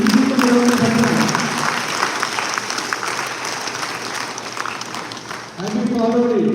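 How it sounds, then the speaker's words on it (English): An audience applauds at a talk on service and spirituality, a steady wash of clapping lasting several seconds, with a speaking voice over it at the start and end. "Can you give them a round of applause?"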